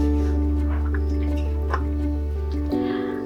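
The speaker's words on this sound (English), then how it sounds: "I'll add in a cup of water now." Water is poured into a thick egg keema gravy for Indian dhaba-style cooking, giving soft splashes and drips under a loud, steady kitchen hum.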